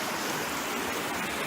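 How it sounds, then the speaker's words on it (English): A river at a hiking crossing in the Eastern Arthurs rushes loudly and continuously, a dense close roar of flowing water with no pauses and no voices. "You're supposed to cross this river here."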